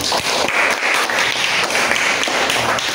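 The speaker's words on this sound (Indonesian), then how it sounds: "tepuk tangan untuk teman kalian" Brief round of applause from a school classroom for classmates after a group presentation, steady dense clapping lasting a few seconds.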